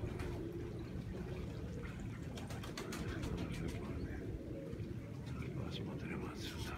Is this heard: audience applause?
no